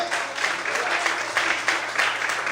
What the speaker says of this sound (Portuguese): Você pode aplaudir e glorificar a Ele bem forte.